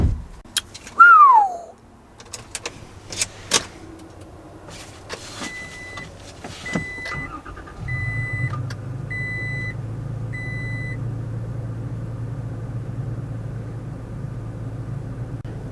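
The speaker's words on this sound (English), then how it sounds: "That was a very long startup just to tell us that we're low on fuel." A 2022 Toyota Tacoma TRD Pro with a manual transmission starts up with a low fuel warning: an electric whir, a few clunks and clicks, a series of repeated warning chimes, then the engine settling into a steady low idle.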